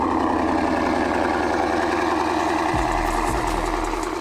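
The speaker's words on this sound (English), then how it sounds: "turbos through that Corsa exhaust are surprisingly pretty loud" A twin-turbo Mustang engine rumbles loudly through a Corsa exhaust, a steady deep idle close by, dropping to a lower, heavier burble near the end with no talk over it.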